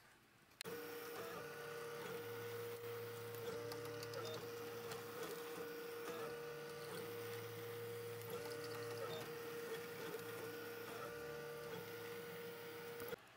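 A 3D printer prints a small garbage container model, its stepper motors whirring in shifting tonal patterns and steady mechanical hum, continuous and fairly close, with no talk.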